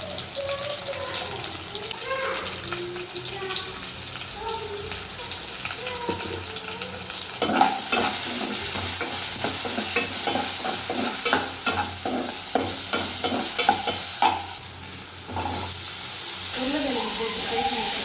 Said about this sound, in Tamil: உருளைக்கிழங்கு போட்டு ஃப்ரை பண்ணிட்டு